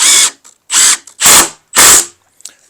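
A power drill drives screws into wooden boards for a rot-resistant raised garden bed in four loud, close bursts, each under a second, separated by short gaps with faint clicks, and no talking.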